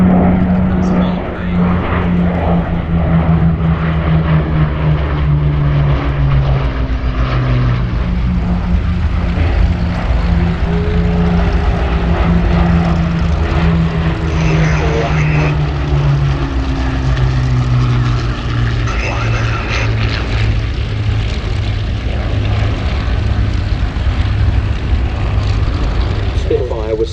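A Hawker Hurricane propeller aircraft passes at the Sywell Airshow, its engine a loud continuous drone that shifts in pitch as it moves overhead, with a person talking beneath it.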